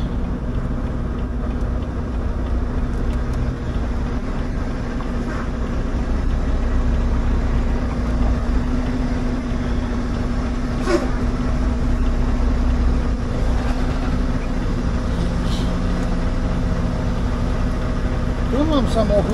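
A car engine idles steadily in a video game, a constant low rumble running throughout under continuous nearby talk and occasional small clicks.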